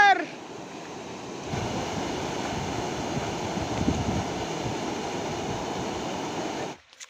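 A river in a village, where people are bathing, gives a steady broad rushing roar close to the microphone that holds evenly for several seconds before cutting off abruptly.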